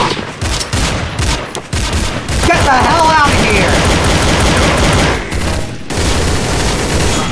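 Rapid automatic AU-1 rifle fire in a Counter-Strike deathmatch crackles in loud, dense bursts, with brief gaps between volleys and other weapon sounds mixed in; no voices are heard.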